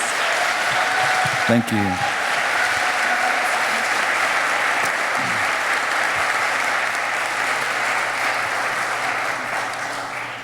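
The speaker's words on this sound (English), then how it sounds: "Can you all give Tommy Orange one more round of applause?" A Cleveland Book Week audience gives author Tommy Orange a sustained round of applause after his evening reading, a steady dense wash of clapping that holds for about ten seconds while a voice briefly speaks over it near the start.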